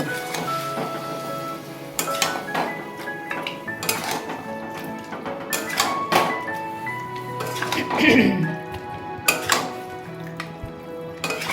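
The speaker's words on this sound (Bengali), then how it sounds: "দিয়ে মিডিয়াম আঁচে আমি কিছুক্ষণ নাড়ব।" Chicken bukhara stirred in a pan over medium heat, a metal spoon clinking and scraping against the pan in irregular strokes over a soft sizzle, with someone talking throughout.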